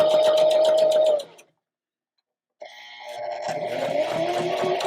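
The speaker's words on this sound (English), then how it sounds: "we're just going to continue sewing to the end of the fabric." A sewing machine stitches fabric up close with a loud, steady, rapid mechanical whir. It stops for about a second of silence, then starts up again and runs on continuously.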